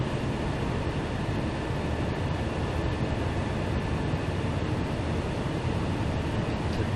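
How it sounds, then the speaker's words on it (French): Steady, loud engine drone from a Cessna F406 Caravan II twin-turboprop aircraft in Microsoft Flight Simulator, continuous broadband roar throughout with no talking. "c'est un avion qui est vraiment bruyant"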